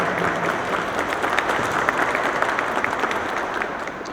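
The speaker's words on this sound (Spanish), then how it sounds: "a la cual le damos un fuerte aplauso y una bienvenida" Sustained applause from an audience welcoming a commissioner at a personal data protection awareness event, dense steady clapping at even loudness throughout with no speech over it.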